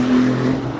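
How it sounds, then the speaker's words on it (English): A car fitted with a loud bazooka exhaust revs at a car meet, giving a brief, close, droning engine note with a strong low hum. "Crazy, like a bazooka exhaust."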